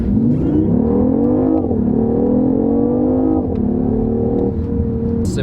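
BMW i8 hybrid pulling hard in first gear, a loud, close engine note climbing in repeated rising sweeps with brief dips between, heard from inside with no talk.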